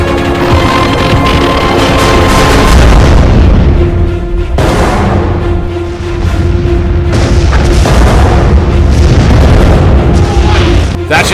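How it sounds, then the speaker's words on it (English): An asteroid shot and blown apart in Halo 4 machinima, heavy booming explosions and rumbling blasts over a loud continuous engine-like drone, with characters speaking amid the action. "Now, shoot that asteroid!"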